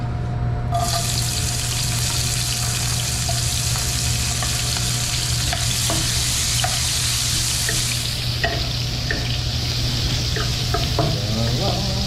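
Garlic dropped into a hot pan to sauté for kangkong, a steady loud sizzle with occasional stirring scrapes, outdoors by a forest stream, with little talk.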